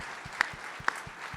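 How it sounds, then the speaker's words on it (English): A faint patter of audience clapping at a community outlook breakfast, brief and distant with a few sharper claps poking through the soft wash of hands. "Will you give them a massive round of applause?"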